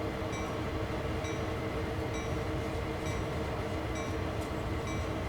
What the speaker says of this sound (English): They are very impressive, these US freight trains, sort of length and scale wise